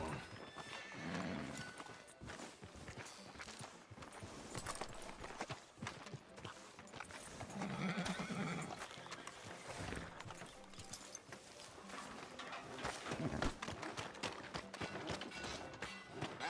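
A horse in the Red Dead Redemption 2 video game clip-clops along a town street, its hooves thudding in an uneven rhythm with a few whinnies and snorts mixed in, fairly quiet and with no voices.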